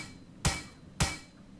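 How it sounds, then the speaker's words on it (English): In the video game Plains of Pain, a hammer strikes a car twice, about half a second apart, each blow a sharp, loud metallic clank. "obviously hitting something with a hammer doesn't seem to make much attraction noise"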